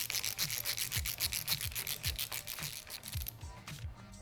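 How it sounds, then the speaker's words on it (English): A 10mm socket on a ratchet tightens a bolt while Womet-Tech levers are fitted to a Honda CBR500R/F motorcycle, giving a quick run of close, steady rasping clicks with a rhythmic back-and-forth stroke and no talk. "I'm going to use my 10mm socket on a ratchet."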